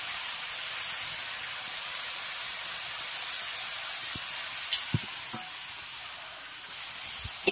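Washed, chopped cabbage sizzles steadily in a hot pan with spiced oil, a loud continuous hiss with a few soft knocks of stirring near the end.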